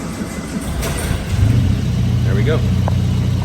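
A 1958 Triumph TR3A catches on a cold start with a bit of choke, the four-cylinder engine firing up and settling into a steady low idle rumble close by, with someone speaking briefly over it.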